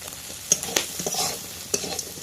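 River crabs from the Sundarbans frying in a pan with salt and turmeric, a soft sizzle broken by several sharp scrapes of stirring.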